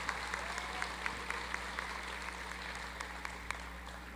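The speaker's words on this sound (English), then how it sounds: "A round of applause, please, for all of our stage party and our special guests" Audience applause at a college commencement ceremony for the stage party and special guests, faint and steady with scattered distinct claps over a constant low hum.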